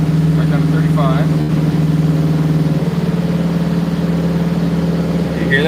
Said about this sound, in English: Hear how the engine is rougher in that range?